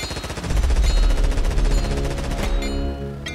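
Ship-mounted machine guns hammer away in a multiplayer Stormworks naval battle, a fast, steady, loud stream of shots for about two and a half seconds before cutting off into lingering engine hum.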